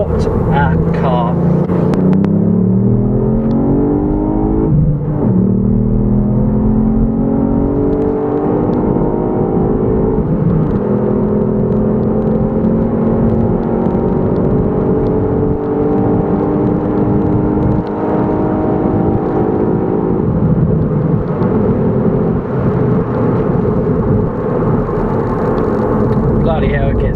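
A 2018 Ford Fiesta ST hot hatch accelerating hard on a road, its engine note rising through the revs, dropping at a gear change and climbing again, loud and close throughout.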